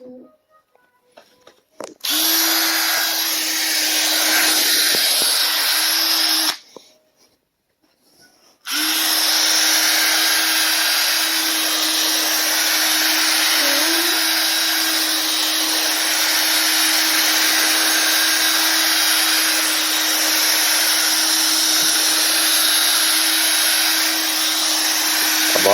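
Bissell carpet cleaner running on a rug gives a loud, steady motor whine close by, cutting out briefly once before starting again and droning on with no talk.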